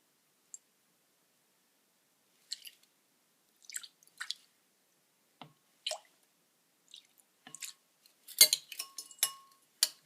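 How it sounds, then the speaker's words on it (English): Vinegar being stirred into homemade hand sanitizer in a bowl: sparse wet clicks and squishy drips, quiet at first, then a denser burst of stirring taps near the end, with no talking. "Mix well."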